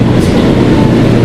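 A Kawasaki R160B Q subway train rides through New York City, a loud, steady roar of wheels and car rumble from inside with a constant low drone and no talk.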